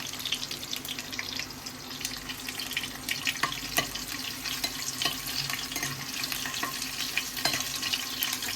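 Crushed garlic cloves with skins and mustard seeds frying in hot oil for an Indian taro-leaf dish, a steady close sizzle crackling with frequent sharp pops and spatters.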